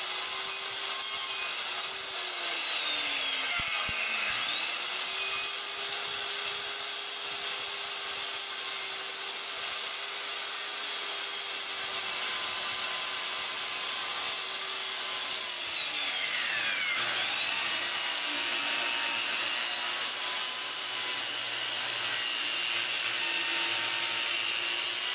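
Power saw cutting a long straight line along a guide through wood for a cold frame build, a steady loud whining motor that dips in pitch under load twice, continuous for the whole stretch with no talking.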